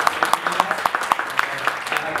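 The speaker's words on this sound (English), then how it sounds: "Maybe a round of applause for Han Bing for sharing." A small audience at a marketing event claps: a thin, uneven patter of separate handclaps, roughly a dozen in quick succession, fairly close and moderately loud.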